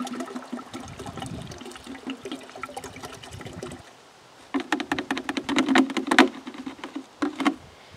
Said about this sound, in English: I'm just going to dilute it with some rainwater into the watering jugs